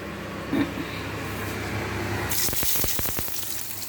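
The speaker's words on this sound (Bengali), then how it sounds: "এবার এটার মধ্যে একটু পেঁয়াজ কুচি, রসুন কুচি আর কাঁচা লঙ্কা দিয়ে দিচ্ছি।" Chopped onion, garlic and green chili drop into hot oil, setting off a loud broadband sizzle midway that crackles with sharp spits and pops, following a quieter stretch of low kitchen hum.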